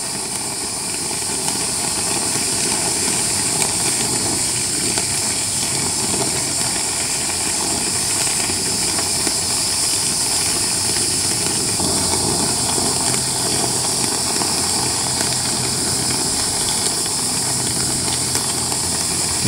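A brazing torch flame hisses steadily while heating a copper HVAC joint, a loud continuous broadband roar with no pauses and no talking.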